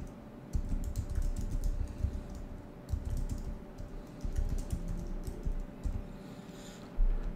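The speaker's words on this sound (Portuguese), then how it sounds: "Deixa eu digitar aqui o negócio." Computer keyboard typing during a Portuguese-language math lesson, with bursts of quick key taps in short runs, moderately close over a low room hum, and no voices.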